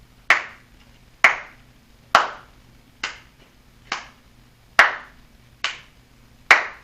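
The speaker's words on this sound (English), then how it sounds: "you can see the frequency I clap with changes drastically before and after" Eight sharp, isolated hand claps in a quiet room during a Doppler effect demonstration, spaced unevenly with the gaps shifting from shorter to longer, each crack fading quickly.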